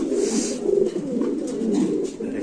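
Modena pigeons cooing close by: repeated low, throaty, rolling coos in a steady cluster over soft background noise, no talking.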